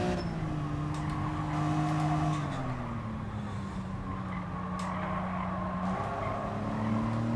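A 2003 BMW M3 in the racing game GT Sport at Bathurst, its engine droning with shifting pitch as the tires squeal and skid continuously through corners, steady and prominent throughout.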